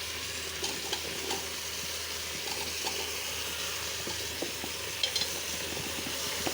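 Bottle gourd pieces are stirred and fried in a pan for a curry, giving a soft, continuous sizzle with light scraping and clinking strokes at intervals.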